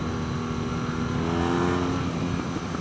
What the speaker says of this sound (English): You can give it full throttle.